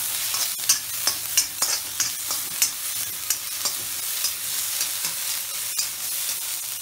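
Onions fry on high flame in an iron kadhai for aloo do pyaza, with a steady sizzle broken by regular scraping taps of a spoon stirring, close and alone without speech.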